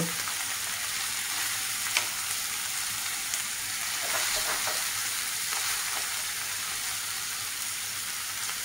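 Fish frying in a raw mango curry with turmeric, a continuous close sizzle broken by a few light stirring scrapes, with no talking.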